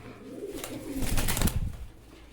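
Pigeons cooing at a pigeon market or farm where birds are sold wholesale: a low, throaty coo swells and rolls for about a second, close by, with soft background noise and no talk.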